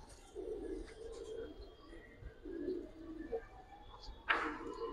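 Giribaz and colour-breed pigeons give soft, low coos in repeated short bursts nearby, fairly faint, with a sharp brief rustle near the end.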